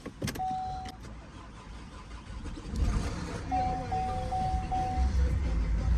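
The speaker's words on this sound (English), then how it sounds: "Let's give it a start." A high-mileage Vauxhall Astra diesel engine cranks and catches partway through, settling into a low, steady rumble with a thin electronic chime tone sounding intermittently.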